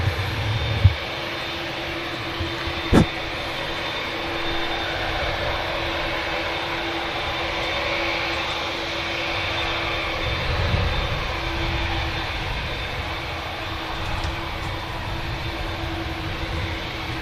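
A Boeing Dreamliner lining up on the runway at Manchester Airport, its jet engines giving a steady, distant whine and rumble with a faint tonal hum, continuous and even, with a couple of brief knocks early on.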